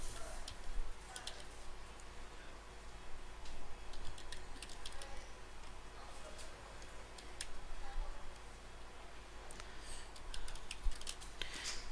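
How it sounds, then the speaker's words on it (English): Quiet, irregular clicking of keys on a computer keyboard as a title is typed into a document. The soft ticks come in short runs over a low hum, with no speech. "I'm going to type in"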